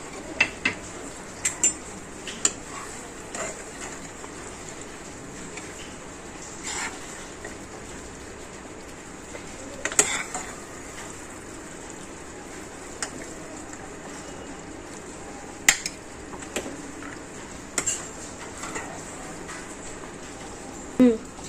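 Chilli loto being served from a pan onto a plate: scattered metallic clinks and scrapes of a utensil against cookware, close and sharp, spread irregularly over a quiet kitchen background while someone talks.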